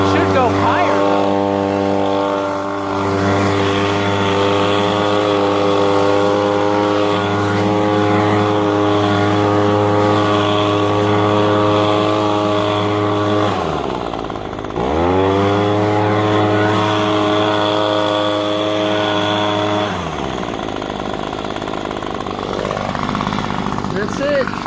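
A leaf blower's small two-stroke engine runs after a carburetor replacement, holding a loud, steady buzzing drone close by. It dips briefly midway, then settles to a slightly lower idle for the last few seconds.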